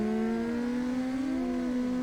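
A Kawasaki ZX-10R racing motorcycle at the Isle of Man TT accelerating hard out of a bend, its engine note climbing in a steady high whine with rising harmonics, heard continuously and fairly close.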